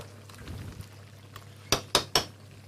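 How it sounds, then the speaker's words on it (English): A spoon moved through shellfish soup with prawns in a pot gives soft liquid sloshing, followed by three sharp metallic clinks close together, near and fairly loud over a low steady hum. "When you add in your prawns, just give it a little stir as well"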